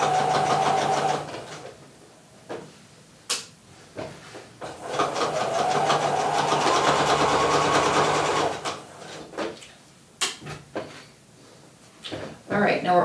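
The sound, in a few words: sewing machine back tacking stitches with gray thread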